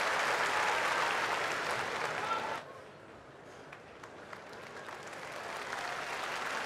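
A sumo crowd applauds during a hard-fought bout, a dense wash of clapping that is loud at first, drops abruptly partway, then swells gradually again, with the crowd's murmur underneath.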